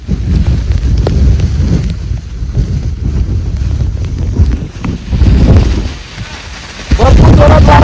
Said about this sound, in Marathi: लय वारा मारतो लय